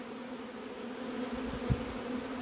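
A swarm of honeybees fanning on a hive box gives a steady, close insect hum with a low buzzing drone throughout, rising briefly near the end. There is no talking.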